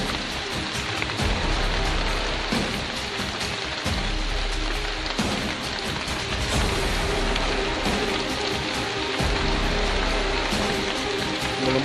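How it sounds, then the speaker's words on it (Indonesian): Steady rain falls continuously on surfaces outdoors while eel hunting, a dense, even hiss with scattered drops that stays at a constant level throughout, with no voices heard. "hujan"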